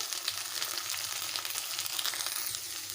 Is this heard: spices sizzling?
yes